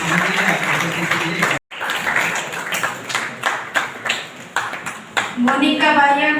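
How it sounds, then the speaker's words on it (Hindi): Applause from an audience at a church diocese leaders' training meeting, a steady dense patter of clapping with a brief gap, mixed with voices and some sharper individual claps. "तो एक बार पुनः हम सभी यहाँ पर उपस्थित जोरदार ताली"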